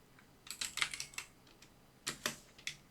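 Keys on a computer keyboard are tapped, including an Alt and Enter shortcut, in quiet, uneven clusters of light clicks with a pause in the middle.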